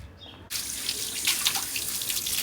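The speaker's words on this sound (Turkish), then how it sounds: "Ay şu çeşme çalışıyor mu?" Water gushes from a public street fountain in Istanbul's Balat neighbourhood, starting abruptly and then running in a steady splashing stream, close by, with no talking.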